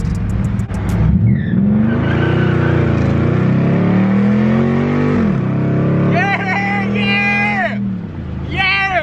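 A Dodge Charger SRT8 pulls hard toward top speed, its loud, close engine note climbing steadily in pitch and then dropping sharply at a gear change. Quieter squeals and whines follow near the end.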